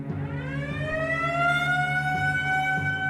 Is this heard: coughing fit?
no